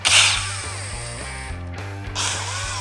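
A driver backs out T27 screws from the headlight mounting bracket of a 2018–2024 Harley-Davidson Fat Bob, producing a brief whirring tool burst followed by rhythmic ratcheting ticks and another short whir, close and clear.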